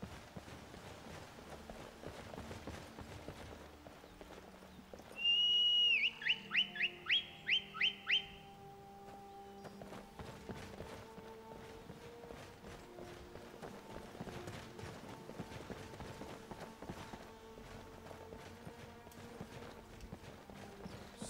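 Horse hooves clip-clop in the Skyrim video game, a run of quick rhythmic hoofbeats joined by a brief whistling sound, set against a quiet game background with no talk.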